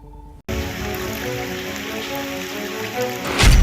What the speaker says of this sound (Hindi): कर्नाटक के बेंगलुरु में भारी बारिश से बाढ़ के हालात बन गए।